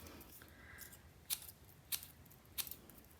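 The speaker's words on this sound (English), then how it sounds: "I find this is easy to do with my smaller scissors" Small, sharp, pointed scissors make three crisp, quiet snips as they fringe-cut paper, evenly spaced in an otherwise hushed room.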